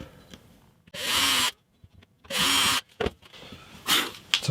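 A power drill bores holes into wood during a repair of a 50-year-old acoustic guitar, with three loud whirring bursts of about half a second each separated by quiet gaps and light handling noises.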